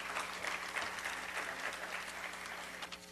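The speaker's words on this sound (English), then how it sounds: "Give them a big round of applause." An audience at a Boston convention claps steadily, a dense, even wash of applause throughout, with no voices standing out.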